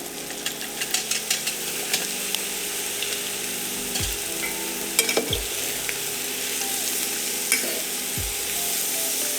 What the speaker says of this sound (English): don't be afraid to pan fry your ingredients in Western style dishes like this